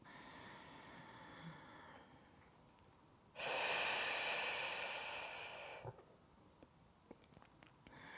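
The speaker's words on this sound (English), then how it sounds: "Take a deep breath in through the nose. And exhale, let it go through the mouth." Slow, deep breathing during a gentle recovery exercise, a soft inhale through the nose followed by a loud, rushing exhale through the mouth lasting about two and a half seconds, close to the microphone and otherwise quiet.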